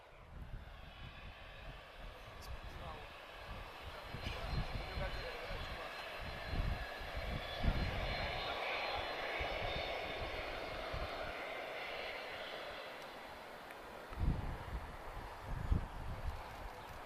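Boeing 767 airliner engines roar steadily at Lisbon Airport, a broad distant jet drone that swells and holds, with a person talking over it at intervals.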